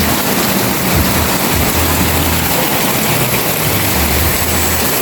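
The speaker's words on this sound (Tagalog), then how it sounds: "Malakas po ang ulan." Heavy, steady rain pours down continuously, a dense loud roar with a low rumble underneath.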